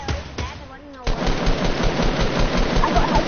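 Rapid automatic gunfire from an SMG in a shooter video game, with a few sharp shots and then a loud, dense, continuous barrage close up. A voice may murmur faintly underneath.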